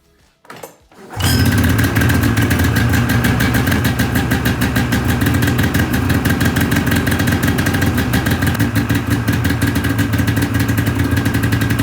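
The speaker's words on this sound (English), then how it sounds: "So we're gonna go ahead and start the sled." A Polaris Indy EVO 550 snowmobile engine starts after a brief crank and settles into a loud, close, steady idle with a fast rhythmic pulse that runs without a break.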